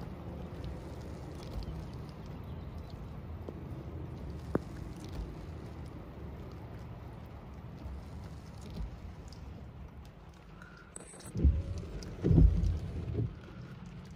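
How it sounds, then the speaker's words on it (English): A thunderstorm in Big Bear gives a steady windy wash of rain, then a deep, loud roll of thunder rumbles in near the end, with no voices. "That's a good sized thunderstorm we got here."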